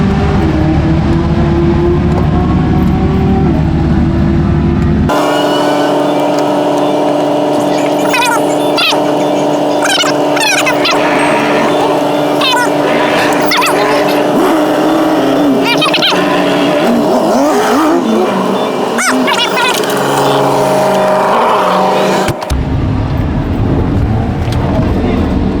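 Supercharged Audi R8 at a drag strip, its engine droning loud and steady through most of the stretch with revving swells, while people talk nearby over the noise.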